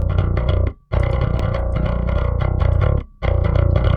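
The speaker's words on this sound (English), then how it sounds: "I put a distortion before the amplifier." A bass guitar played through a distortion pedal placed before the amplifier chugs out gritty, clanky notes in a metal mix, loud and dense, with two brief cutoffs to silence between phrases.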